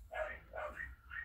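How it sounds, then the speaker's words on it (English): Pomeranians bark in a rapid run of four sharp, high yaps, close by and fairly loud over a low hum. "I have Pomeranians and they are yappy."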